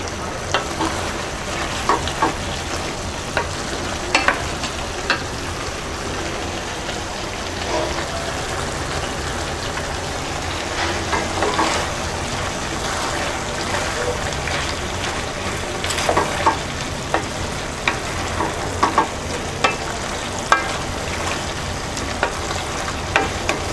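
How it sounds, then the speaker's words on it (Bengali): Bean, potato and tomato vegetarian curry with chopped coriander stirred in a pan, a continuous soft sizzle with periodic scraping taps from the spoon, steady and close, no talk. "এবার আমরা ধনেপাতা কুচি দিয়ে নেড়ে চেড়ে নামিয়ে নেব"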